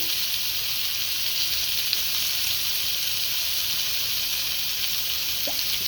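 Meat searing in a smoking hot pan with a little oil, a steady, even hiss of sizzling fat held at moderate level with only a faint click or two; no talking.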